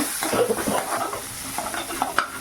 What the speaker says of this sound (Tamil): வெங்காயம் நல்லா வதங்கி வரட்டுங்க.